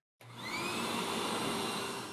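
A vacuum cleaner switches on abruptly and runs with a steady, loud whining roar that holds without break, with no talk over it.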